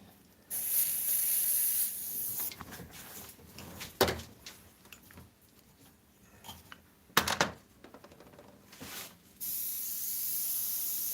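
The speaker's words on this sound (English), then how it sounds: "And then I'll airbrush solid back in there again too." An airbrush sprays paint onto a burning-matchstick artwork in two sustained bursts of smooth, close hiss, separated by a quieter stretch of light clicks and knocks from handling the tool.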